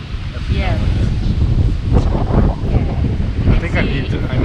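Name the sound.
wind blowing on a beach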